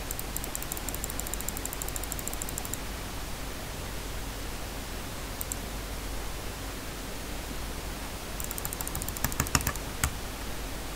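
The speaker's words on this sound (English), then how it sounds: "Click. This is very rapid." Rapid clicking on a computer keyboard or mouse comes in quick bursts of faint, light ticks over a steady hiss of background noise, with a denser flurry of clicks near the end.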